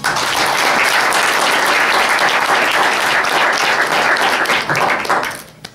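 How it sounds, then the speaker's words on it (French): Loud, dense applause from a crowd at a political campaign meeting, holding steady before tapering off sharply at the end. "j'aimerais que vous applaudissiez déjà."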